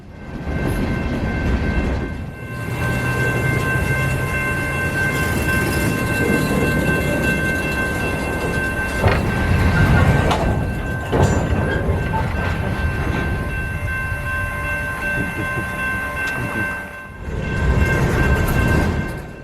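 A CSX freight train rolls past close by on a trip heading west toward Memphis, a loud steady rumble of rail cars with a sustained tonal horn-like note running through, easing briefly near the end.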